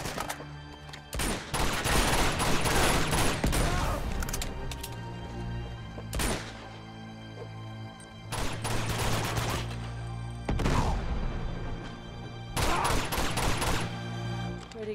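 Shootout gunfire in the video game Uncharted 2: Among Thieves, loud bursts of rapid automatic fire in several clusters separated by brief lulls, with a low sustained game soundtrack beneath.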